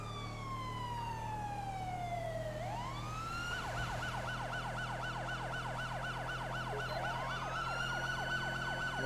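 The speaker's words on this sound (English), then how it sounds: "A little bit of dual siren action going on here." A loud police siren from the game GTA V wails, sweeping down and then cycling rapidly up and down, with a second siren overlapping.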